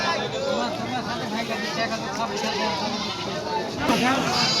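A large castrated goat bleats at a village livestock market, its wavering cries rising over constant crowd babble and bargaining voices close by.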